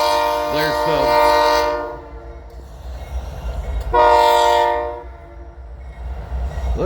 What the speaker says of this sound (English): Looks like a unit, just a unit train of grain or corn or something.